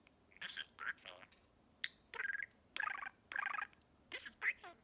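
Kiwi the budgie chatters in quiet, raspy bursts, a string of short whispery phrases and chirps separated by brief pauses, close and faint.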